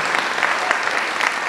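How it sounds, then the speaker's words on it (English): An audience at a youth film school premiere claps for young filmmakers, a brief, dense burst of steady applause at close range. "Please clap it up for them one more time."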